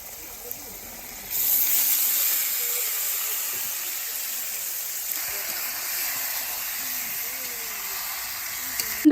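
Chicken pieces for biryani frying in a pan after bay leaves, giving a steady broadband sizzle that jumps up in loudness early and then holds, with faint talk in the background.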